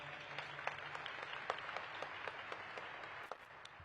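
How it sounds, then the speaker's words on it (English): A modest audience at a downtown development workshop claps for a deputy mayor, the scattered hand claps steady and moderately distant, holding a fairly even level for a few seconds before trailing off. "Let's give Keith a round of applause"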